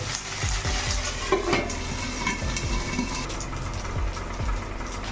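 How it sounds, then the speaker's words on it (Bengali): Cauliflower florets fry in hot oil until charred for a white Bengali dish, a dense continuous sizzle and crackle with soft stirring scrapes, close and steady throughout. "কপিগুলোকে একদম মানে ছ্যাক পোড়া করে ভেজে নেব"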